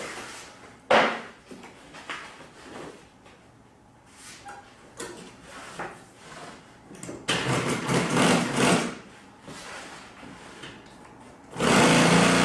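Sewing machine top stitching a boat canvas cover, bursts of fast mechanical stitching starting and stopping between quieter handling noises, close and moderately loud.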